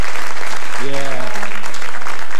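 Brief studio applause from a game-show audience, a dense wash of clapping, with a short voiced sound rising over it midway.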